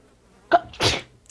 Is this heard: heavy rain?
no